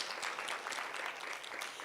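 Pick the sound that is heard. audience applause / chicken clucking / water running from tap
audience applause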